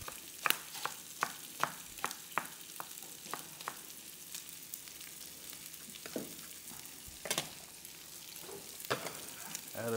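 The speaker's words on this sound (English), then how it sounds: "we're gonna add a slice of butter into the pan" Butter sizzles in a hot frying pan, a quiet, steady frying hiss broken by scattered sharp pops and crackles across the whole stretch, with no voices.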